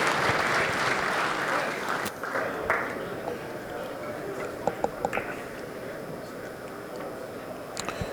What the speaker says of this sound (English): Let's have a round of applause for both of these players